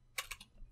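A few quick keystrokes on a computer keyboard while an availability message is typed, three or four soft clicks close by in a quiet room.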